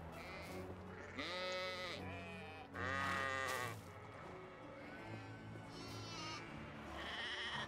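Sheep bleat in Medieval Dynasty, several drawn-out quavering calls at irregular intervals, some loud and near, others softer, over a low ambient farm background.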